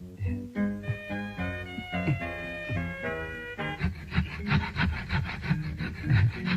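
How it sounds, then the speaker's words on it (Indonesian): A hand saw cuts through wood with steady rasping back-and-forth strokes, the rhythm quickening toward the end, heard against a busy background with music. "Ini gergaji."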